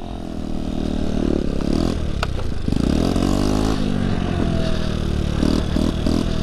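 A small scooter engine revs steadily and loudly throughout during a wheelie attempt, its pitch rising and falling with a rattling, buzzing tone, close by.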